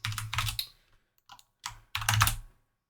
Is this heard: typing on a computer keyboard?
yes